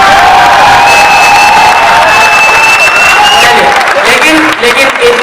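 Audience at a Hindi poetry recital breaks into loud applause and cheering, a full hall of clapping and shouts with a few long whistle-like tones rising over the roar, easing slightly near the end.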